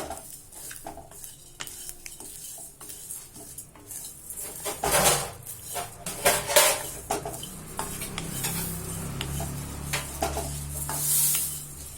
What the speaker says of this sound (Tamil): எவ்வளோ நேரம் வறுக்கணும் நமக்கு வறுபட்டு கலகலன்னு சத்தம் கேட்கும்